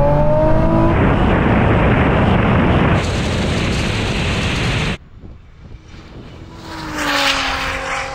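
A rally car, a Porsche 911 Turbo S and a GTR with around 1000 horsepower launch in a drag race, a loud roaring burst for several seconds that cuts off abruptly, followed by a quieter engine swell further away.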